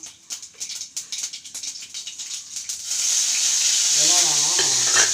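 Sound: mustard seeds and cumin sizzling in hot oil

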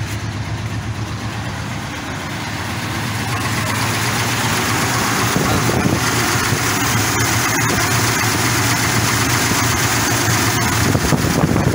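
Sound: car engine idling

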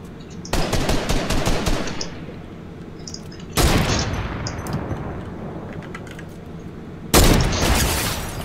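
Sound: gunfire in a video game

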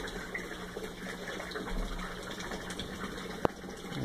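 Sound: water siphoning in aquaponics grow bed

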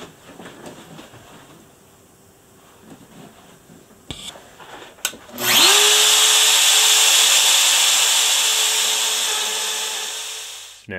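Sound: Shaper Origin handheld CNC router doing Z-touch depth probe

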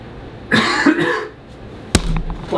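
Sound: cough

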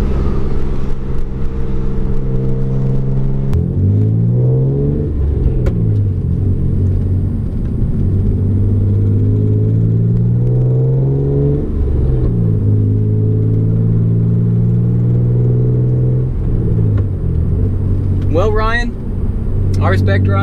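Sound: Hyundai Genesis Coupe engine while driving and shifting

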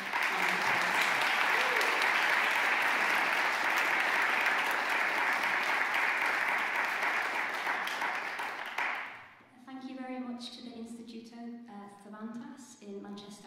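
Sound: concert audience applause

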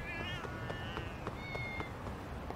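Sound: cat meowing in the video game Lost Judgment

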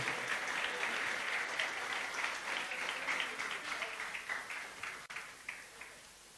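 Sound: audience applause honouring the elders

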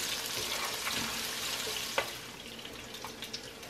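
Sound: onion leek frying in cooking oil

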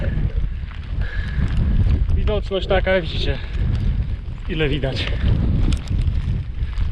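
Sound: wind and rain on an exposed mountain ascent

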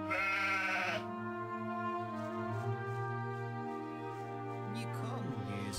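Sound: sheep bleating in video game Kroniki Myrtany: Archolos

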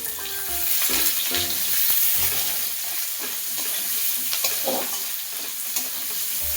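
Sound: onions frying in oil in a pan

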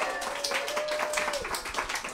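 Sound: audience applause

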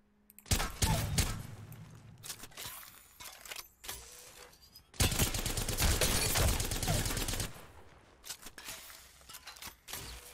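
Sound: gunfire from Apex Legends video game weapons

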